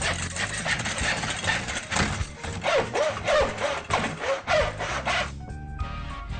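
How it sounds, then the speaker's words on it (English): A miter saw cuts through wooden frame pieces for a bookshelf, a loud rasping whine pulsing with each stroke for several seconds before spinning down abruptly near the end. "the miter saw comes in very handy for that"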